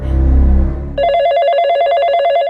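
A telephone starts ringing with a bright, rapid trilling ring, close and loud, right after a short burst of low music.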